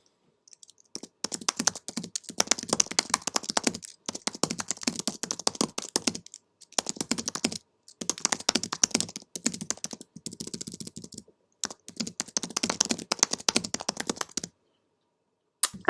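Someone types quickly on a computer keyboard, close by, in clattering bursts of keystrokes with short pauses in between and no speech.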